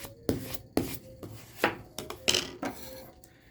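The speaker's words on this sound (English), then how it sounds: "Use your handy dandy scraper. Try to flatten it and stick it to the cover as best as you can." A plastic scraper rubs and smooths Reddi-Cover adhesive film flat onto a library book cover, making several close, short scraping strokes in an irregular rhythm.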